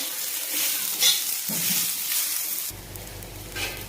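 Sliced onion fries in a pan toward golden brown for a mutton curry, making a loud, close, continuous sizzle with occasional stirring scrapes; the texture shifts partway through and there is no talking.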